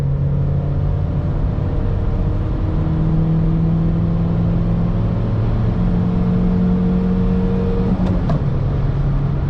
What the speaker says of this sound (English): Give you guys a little third gear pull here.